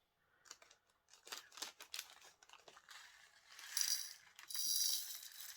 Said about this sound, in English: I'll still put the dryer sheet in.